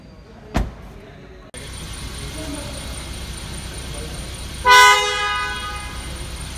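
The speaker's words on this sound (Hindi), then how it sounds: "काफ़ी पावरफुल हॉर्न है।" A 2018 Mercedes-Benz A180 horn blasts once, loud and brassy, after a thump and a steady idling background hum.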